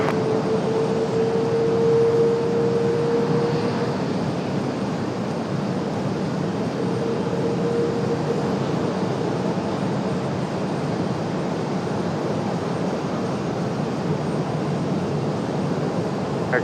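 An airliner takes off from runway 23 right at Raleigh-Durham International, its engines a steady, distant roar with a faint rising whine, unbroken throughout.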